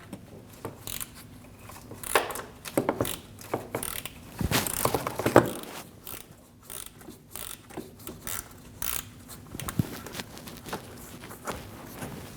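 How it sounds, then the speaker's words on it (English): Metallic ratcheting and clicking from a T30 bit loosening the bottom radiator fan screws on a Volkswagen Passat, in short irregular bursts with clanks of tools nearby and no talking. "Using a T30 bit, we're going to remove the bottom screws for the radiator fan."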